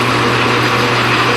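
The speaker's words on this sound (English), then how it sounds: "I got to put them back in the lathe here and I got to turn them, face them off just a little bit down to the correct thickness" A metal lathe facing off pins gives a loud, steady whine with a constant low hum and a hissing cutting noise, close by, with no talk.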